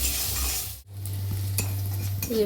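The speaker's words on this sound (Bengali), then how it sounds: "পেঁয়াজটাকে আমি লাল লাল করে ভেজে নেবো" Chopped onions sizzle in hot oil with tempered spices as they are stirred in a pan; a close, steady frying hiss carries a brief scrape and a momentary dip in sound partway through.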